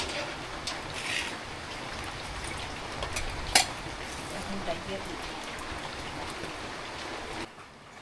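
Rain falling steadily in a village as beef tehari cooks, a soft continuous patter and hiss under a voice, with a brief sharp clatter near the middle.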